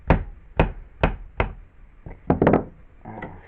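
Hammer blows drive clamps into place during boat repairs: four sharp, evenly spaced knocks, then a quicker cluster of lighter taps and a few rattling knocks, close and loud with no speech.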